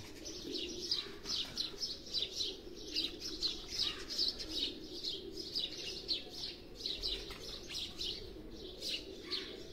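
Pigeons kept by a fancier in Kharian coo and chirp in a steady, continuous chorus, with repeated high twittering calls over low murmuring coos, moderately near and fairly quiet.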